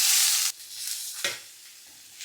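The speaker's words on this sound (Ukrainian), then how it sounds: "перемішую і обсмажую цибулю до золотистості приблизно 3-4 хвилинки" Loud sizzling of onion frying in oil in a pan cuts off abruptly, followed by quieter scraping and stirring sounds with soft sizzle continuing.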